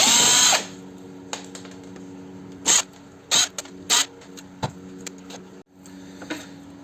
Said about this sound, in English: Long Phillips head screwdriver, down the big holes. There's 4 of them.